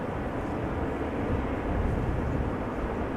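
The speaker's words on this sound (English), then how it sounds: "So Royal Air Maroc 737 just arrived" A Royal Air Maroc Boeing 737 arrives at Amsterdam Schiphol Airport, heard as a continuous, broad, low jet roar that holds steady and fairly distant throughout, with no voices.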